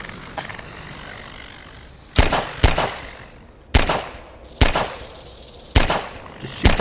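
Gunfire in the first-person shooter Half-Life 2: a series of sharp, loud shots in an irregular rhythm, about seven bursts over several seconds, standing out above a steady background bed of game noise.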